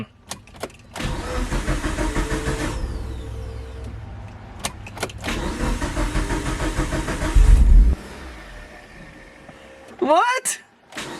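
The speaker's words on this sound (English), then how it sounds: "Dude, the car freaking starts now!" A long-neglected Mitsubishi Evo 8 cranks over in two extended tries before its engine catches and runs for the first time in eight years, loud and close, followed by excited shouting.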